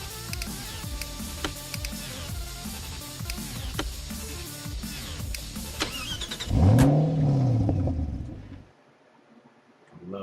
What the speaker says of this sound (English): I love that engine sound.